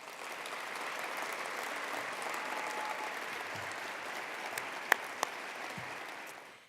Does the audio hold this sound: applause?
yes